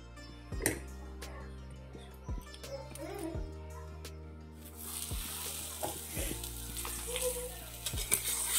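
A carrot paratha frying in a little oil on a pan makes a close, constant sizzle broken by repeated clanks and presses of a utensil, and the sizzle grows louder and brighter partway through.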